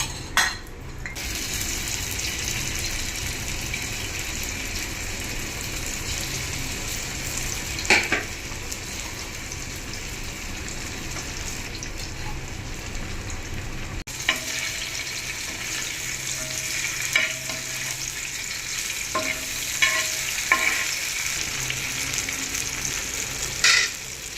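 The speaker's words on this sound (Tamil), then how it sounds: "இப்போ மீன் வறுத்துக்கலாம்" Fish frying in a pan of oil for a home-style fish curry meal, a steady close sizzle and crackle running throughout with occasional utensil clinks and scrapes, no talking.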